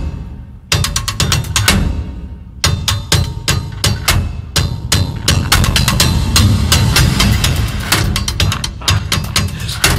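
Loud cinematic percussion loop built from a hybrid metallic kit, with repeated clanging, crunchy hits over a dense low rumble, driving steadily and up close for the whole stretch.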